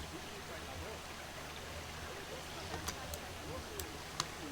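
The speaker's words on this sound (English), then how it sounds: "If you stand over here, you can look down, see the waterfall." A zoo waterfall rushes in a continuous broadband wash of falling water heard from a viewpoint above, with a few faint clicks and taps over the steady flow.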